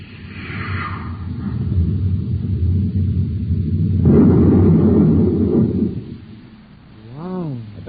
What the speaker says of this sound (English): Stand by to fire space torpedo.